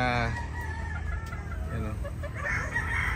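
Gamefowl roosters, gray and yellow-legged hatch birds, crowing and clucking together in a farm yard, a steady layered chorus of overlapping crows and clucks up close, with some faint talk underneath.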